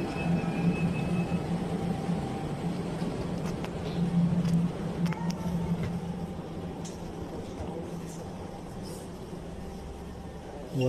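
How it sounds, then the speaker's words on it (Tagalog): Train at Balvatera Station heading home to Vienna, a steady low rumble and hum of the carriage with faint clanks and rattles, continuous and moderately loud. "Tayo pasakay na sa train mga kapatid."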